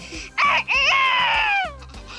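A human voice imitates a rooster crowing: a short rising call, then a long strained wavering crow that fades, with a low rhythmic beat underneath.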